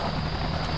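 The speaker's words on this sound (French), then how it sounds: "alors nous prenons l'hélico, on change un peu." A helicopter rotor in the military video game ARMA 2 beats out a loud, steady chopping whir with a constant engine drone underneath, close and unbroken.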